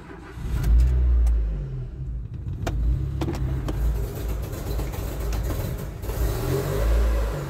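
A car engine starts after sitting unused for three weeks, catching and then revving in several rising surges before settling into a steady medium-pitched idle, close and loud, with a few clicks.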